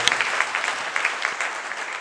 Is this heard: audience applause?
yes